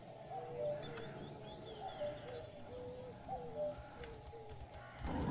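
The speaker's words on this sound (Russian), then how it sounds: "Кукушка" A cuckoo calling in the S.T.A.L.K.E.R. video game, a faint repeated two-note cooing in the background of a quiet ambient soundscape, with a soft rumble and a louder burst at the end.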